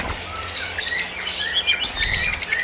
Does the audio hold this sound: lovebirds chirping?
yes